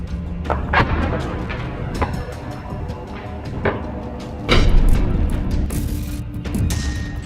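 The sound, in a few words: explosion of Israeli tank blown up by buried explosives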